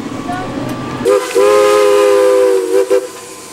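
A train horn blares in one long sustained blast over outdoor background noise, ending with a couple of short toots.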